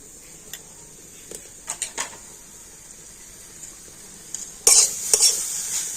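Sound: stirring grated coconut and sugarcane jaggery in a wok

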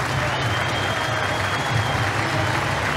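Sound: stadium crowd applauding before rugby league match

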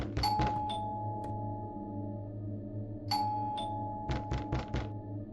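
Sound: doorbell ringing in an indie video game

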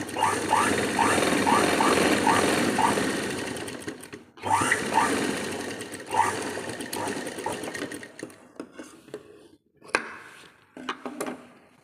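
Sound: sewing machine stitching a blouse

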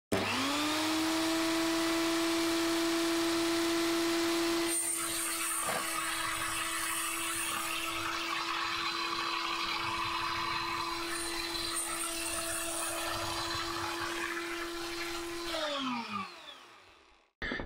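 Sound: small saw cutting model ship panel ends to length

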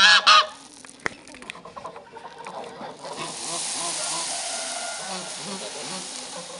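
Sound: geese honking

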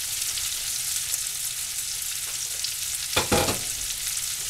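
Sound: food frying in a pan

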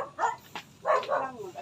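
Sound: dog barking

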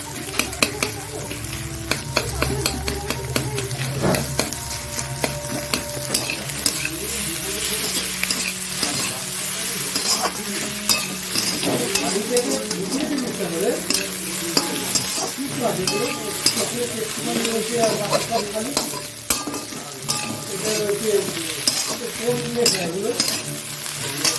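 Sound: egg being stirred into a frying dish

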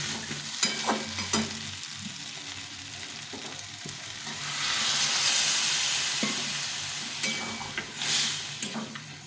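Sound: chickpeas being sautéed and stirred for ghugni

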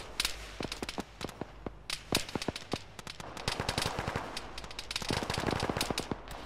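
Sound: sporadic gunfire in a video game (Arma, ShackTac)

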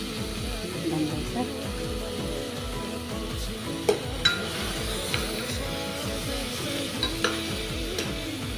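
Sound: stirring mutton with spices in a pan

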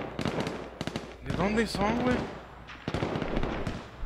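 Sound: distant gunshots in H1Z1 video game

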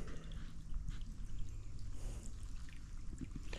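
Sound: washing hands in river water

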